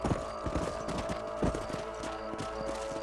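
Horse hooves clip-clopping in Red Dead Redemption, a steady trotting rhythm of close, crisp hoofbeats on a ranch, alone without speech.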